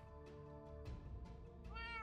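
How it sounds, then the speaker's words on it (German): A small cat in the video game Sacred meows repeatedly, several short tonal cries in quick succession, close and clear, with no talk. "Hey, da ist noch eine Mini-Katze."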